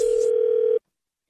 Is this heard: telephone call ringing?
yes